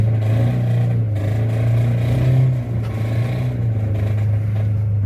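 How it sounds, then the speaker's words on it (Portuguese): A 2016 Volkswagen Saveiro Robust labors in first gear up a ramp, its weak engine giving a loud, steady, rough low drone with clattery undertones that swells briefly and then settles, heard close with no talk. "porém com o motor fazendo muito barulho, tá sem força."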